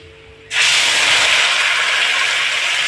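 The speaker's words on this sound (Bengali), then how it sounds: "এবার মা ফোড়নে দিয়ে দেবে লং, দারচিনি, এলাচ, এটা ফোড়ন দিয়ে দেবে" Whole spices, clove, cinnamon and cardamom, dropped into hot oil for tempering while cooking paneer ghugni, bursting into a loud, steady sizzling hiss that begins abruptly and continues without a break.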